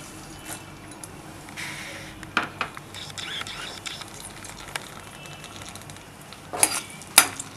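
Garlic sizzles in hot oil with a faint, steady crackle, broken by a few sharp clinks of a utensil against the pan.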